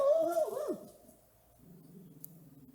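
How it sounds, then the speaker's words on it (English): A dog's loud, rising whine and yelping howl at the start, which quickly fades and leaves a quiet stretch with a faint low murmur. "we'll have to forgive my dog, he thinks he's protecting us, and he's just annoying the neighbors"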